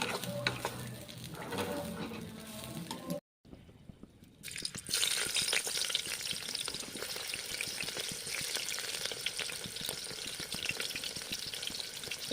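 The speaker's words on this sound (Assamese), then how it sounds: "কেৰাহীটোতে চাউলটো ভাজি দিছোঁ।" Rice frying in a wok, a steady, loud, dense sizzle that drops out briefly near the start and then resumes, continuing strongly to the end with no talking.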